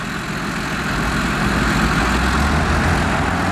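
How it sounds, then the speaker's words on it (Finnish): A Sturm assault gun with a 47.6-litre V12 engine of 1500 horsepower reverses out of its position, making a loud, steady, low rumble that swells slightly and then holds. "Ja näin Sturm rynnäkkötykki peruuttaa asemasta."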